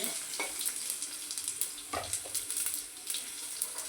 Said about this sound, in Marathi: आता आपण यात लसूण टाकू तर लसणाला थोडासा लाल होऊ